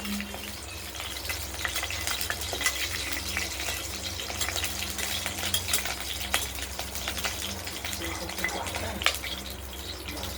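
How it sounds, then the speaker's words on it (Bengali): Bay leaf and cumin seeds tempered in hot oil, a loud steady sizzling hiss with a low background hum and occasional small crackles, continuous and close throughout. "তেজপাতা প্রথমেই দিলাম, আবার জিরে সম্বার দিলাম, জিরে দিয়ে দিলাম"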